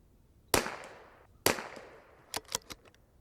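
Savage B22 rifle firing flat nose rounds outdoors: two sharp, close cracks about a second apart, each with a trailing echo, followed by a few quieter metallic clicks of handling.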